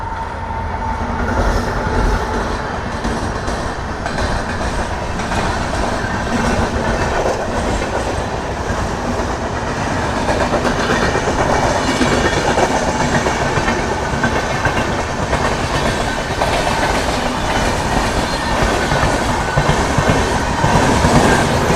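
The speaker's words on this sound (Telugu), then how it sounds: "పక్కనే కానీ చూసుకుంటే మనకు వచ్చేసి Secunderabad Jaipur special express train అయితే ఉంది" An express train rolls along the rails with a continuous, loud, close rumble and rhythmic clickety-clack of wheels over track joints, with no talking.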